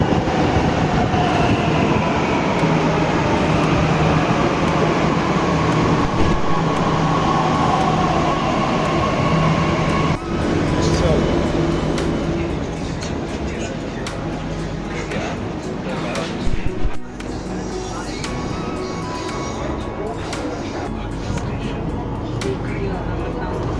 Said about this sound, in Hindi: तो भाई आ गई मेट्रो